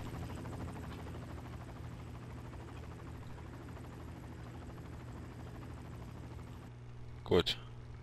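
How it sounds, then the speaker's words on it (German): A helicopter in the James Bond Quantum of Solace video game drones steadily with a low buzzing rotor hum, then cuts off near the end, followed by a brief sharp noise. "Helikopter."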